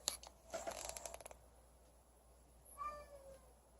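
A house cat meows twice indoors, first with a rattle of movement at the start and then a clear, drawn-out meow near the end, both close and fairly quiet in an otherwise still room.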